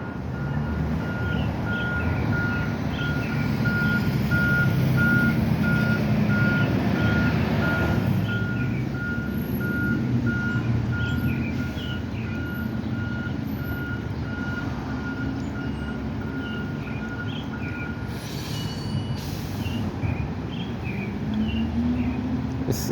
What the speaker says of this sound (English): Let's see if this trash truck can make it through there.